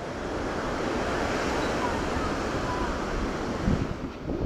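Surf and wind at a beach in Maricá, Ponta Negra, on a cold cloudy day: a continuous broad wash of breaking waves and gusting air buffeting the microphone.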